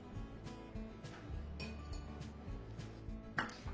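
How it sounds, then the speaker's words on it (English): Plain flour, or maida, is mixed with baking soda and baking powder in a bowl for eggless cupcakes, giving soft, steady scraping and light clinking of a utensil against the bowl, faint and close, with no talking. "I'm going to mix this all really well"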